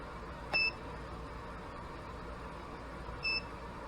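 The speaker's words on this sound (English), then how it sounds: "When this hits it," A digital reloading scale gives two short electronic beeps, close and clear, about three seconds apart, over a quiet room hum.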